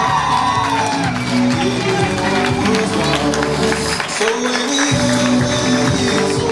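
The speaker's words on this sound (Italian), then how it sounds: "Un grande applauso, Angela Melozzi." A crowd at a volleyball team's season launch event in Aversa cheers and whoops loudly for a player, with shouts rising over continuous music and crowd noise.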